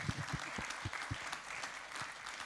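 Audience at a regional health users' rights day conference claps briefly, quiet and somewhat distant, with a few distinct close hand claps standing out early on.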